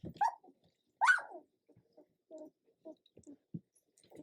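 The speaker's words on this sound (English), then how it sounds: "They're not really a bark, they're more like a little squawk, because he's lost." A two-week-old puppy lets out thin, high squeaks and squawks, a few sharp cries followed by softer scattered peeps in a quiet room.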